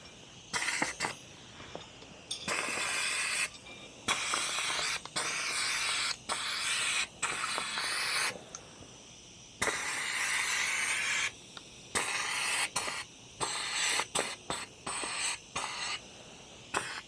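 A powder coating spray gun hisses in repeated bursts of varying length while coating a 1974 Piaggio Vespa Ciao side panel. The bursts are close and fairly quiet, separated by brief pauses, with no talking.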